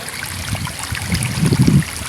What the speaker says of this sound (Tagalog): Papasok na ng tubig papunta doon sa fish pan.